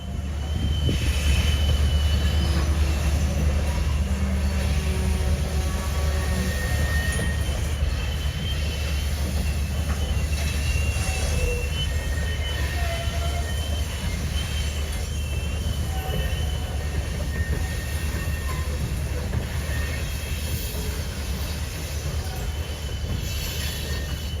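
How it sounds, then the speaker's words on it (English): A freight train rumbles by continuously, low and heavy, with wheels squealing and faint clanking of cars throughout. "The train arrived at the Rockwood interchange shortly after 12 o'clock noon."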